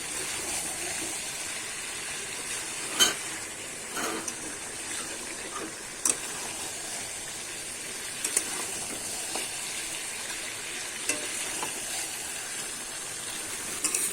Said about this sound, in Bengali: আমি এইভাবে কিন্তু আবার কিছুক্ষণ কষিয়ে ভালো করে একদম কষিয়ে নেব।